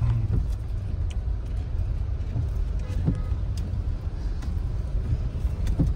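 Steady road traffic with cars rolling past in a continuous broadband rumble during flooding in Guwahati, loud and constant with a few faint sharper knocks and no clear voices.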